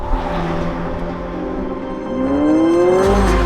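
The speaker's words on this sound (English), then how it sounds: "You get this combination of the turbo whistles and this new exhaust that absolutely slaps." McLaren 750S supercar engine revving hard, turbo whistles rising over a loud, rasping exhaust that climbs in pitch as the car accelerates, close and alone without talk.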